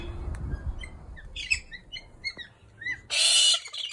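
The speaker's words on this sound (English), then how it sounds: "Can you hear the gangang flying past?" A gang-gang cockatoo calls as it flies past a garden, giving several short creaky, squeaky calls followed by a harsher burst near the end, heard against quiet background sound.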